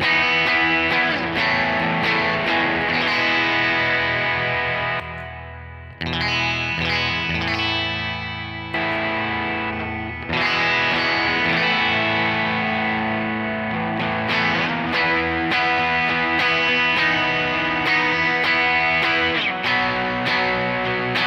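Electric guitar played through a Pettyjohn ROUS pedal with the gain boosted to 12, giving a loud, sustained distorted tone with chords and riffs, a brief drop in level around the middle, and no talking.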